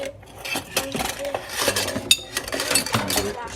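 Dishes and cutlery clinking and clattering continuously as children handle them in a kitchen, with irregular close knocks and chinks and faint voices underneath.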